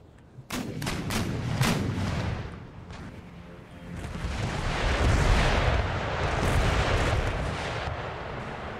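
Artillery in Empire: Total War letting off volleys: a quick cluster of sharp booming cannon shots, then a longer rolling rumble of blasts and impacts, loud and reverberant.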